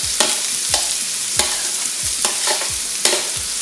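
Garlic frying in a hot pan, a loud, steady sizzle broken by repeated scraping strokes of a spatula at a brisk, uneven rhythm.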